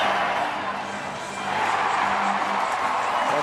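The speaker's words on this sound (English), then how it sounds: "watch the reaction of the crowd" Stadium crowd at a Pittsburgh baseball game roaring and cheering after the final out, a dense, sustained wash of voices that swells louder midway through.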